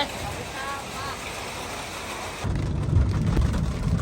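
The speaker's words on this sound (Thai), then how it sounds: "พี่น้องฝนตก" Rain falls in a constant wash, then a deep rumble swells in and thickens the noise; faint voices sit beneath it early on.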